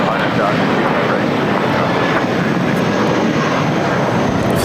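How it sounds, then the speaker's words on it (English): A China Airlines Boeing 777 cargo freighter on final approach to runway 25 left at LAX, its engines producing a loud, continuous broadband roar with wind buffeting the microphone throughout. "The second China Airlines cargo 777 freighter about to touch down on 25 left."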